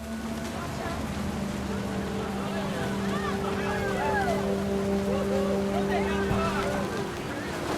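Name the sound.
heavy rain in video game What Remains of Edith Finch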